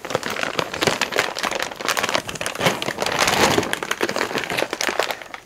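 Plastic parts bags crinkle and crackle steadily while an HPI Baja 5B SS buggy kit is unboxed, with dense close rustling and sharp crackles continuing throughout and no voices.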